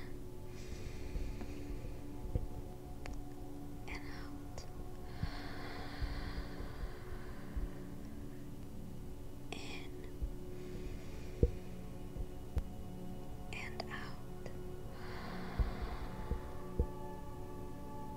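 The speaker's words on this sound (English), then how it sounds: "Let's take a few more grounding breaths." Slow, deep meditative breaths drawn in through the nose, soft airy swells repeating every few seconds over a faint low hum, close and quiet with no talking.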